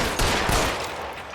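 Gunfire in the crime video game L.A. Noire, a sharp burst of shots in a dense, loud rush of game noise during a chase, with a couple of strong hits near the start and middle.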